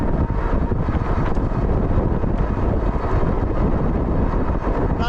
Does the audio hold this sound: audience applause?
no